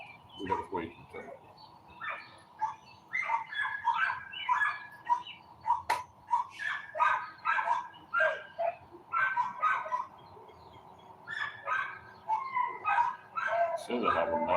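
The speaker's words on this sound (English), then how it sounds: "Yeah, the dogs are hollering for food." Dogs yelp and bark for food again and again in bursts, somewhat distant, while someone talks nearby in a workshop during a tuning session.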